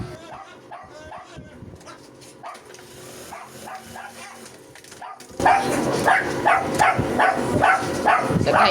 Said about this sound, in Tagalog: grabe ang ingay ng mga aso ni ate